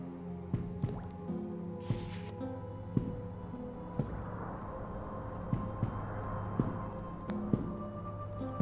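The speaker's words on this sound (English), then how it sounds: "I don't know if the water is significant." Water drips in the video game Echoes from Levia: Soulbound, soft irregular plinks and squishy drops scattered over a steady low ambient drone, fairly quiet and close.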